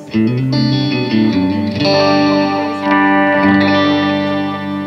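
A bright, clean Fender American Standard Stratocaster with single-coil pickups plays sustained chords and melodic notes with effects and reverb, loud and close, no voices.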